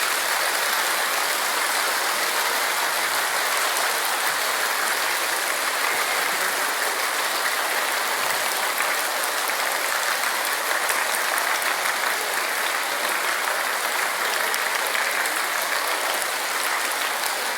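Dense, frantic clapping from a large lecture-hall audience trying to clap as fast as possible for a minute, a steady loud roar of hands with no pauses and no voices.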